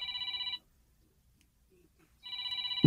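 A cellphone rings with a bright electronic trilling ringtone in two bursts separated by about a second and a half of near-silence, clear and close, with no talking.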